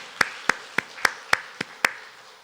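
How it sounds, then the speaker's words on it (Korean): Seven sharp, evenly spaced claps ring out alone at a Korean church Sunday morning worship service in Sillim-dong, crisp and fairly close, without any crowd applause swelling around them. "우리 하나님께 큰 영광의 박수 한번 올려드리겠습니다."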